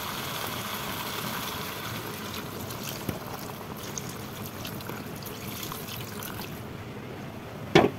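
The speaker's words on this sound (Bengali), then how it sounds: "এবার পানি দিয়ে দেবো, যেমন পরিমাণ মতো পানি দিয়ে দেবো" Water is poured into chicken curry cooking in a pot after the spices have been fried down. It makes a faint, steady trickle and slosh with a few small clicks, ending in a brief clatter.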